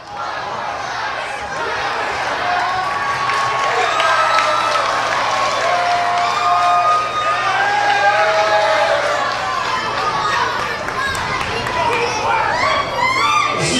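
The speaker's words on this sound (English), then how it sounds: "these fans, they're not done with Robbie E" Wrestling fans in an arena cheer, shout and clap in a loud, continuous crowd roar, with whistles and individual yells rising over the din and a commentator talking underneath.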